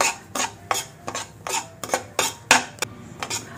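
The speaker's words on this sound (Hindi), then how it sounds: "सूजी को भी हम अच्छे से इस तरह से लो फ्लेम में इसको सूजी को भी भून ले रहे हैं" Fine semolina being stirred and roasted in a pan over a low flame, with a steady series of sharp spoon scrapes and clinks against the metal at an even rhythm, close and fairly loud, with no talking.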